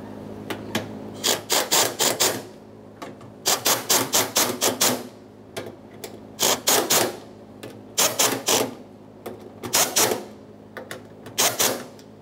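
Bolts on a 1994–1997 Honda Accord electric fuel pump are tightened in a crisscross pattern, producing close, sharp bursts of rapid metallic clicking in short repeated runs separated by brief pauses.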